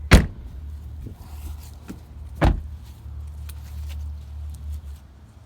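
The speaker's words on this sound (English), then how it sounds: "Gonna close up her door." A 2003 Honda Pilot door thumps shut, followed by a second solid slam a couple of seconds later, with a low engine idle humming throughout.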